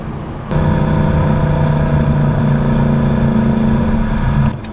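A powerful Mercedes C63 engine roars loudly and steadily as it accelerates, a deep sustained growl with rising pitch, starting abruptly and cutting off near the end.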